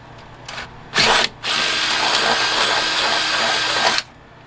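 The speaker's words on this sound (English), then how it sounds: "let me just make the hole a little bit bigger using a bit of a bigger drill bit." A power drill bores out a hole with a larger bit while plumbing a Sprinter van, with a short burst, a brief pause, then about three seconds of steady, loud whining drilling close by.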